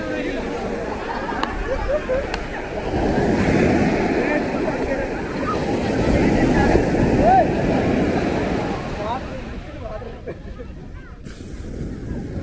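Bay of Bengal surf breaks on Marina Beach in Chennai, a broad roar of waves that swells and fades. Wind buffets the microphone, and beachgoers chatter nearby.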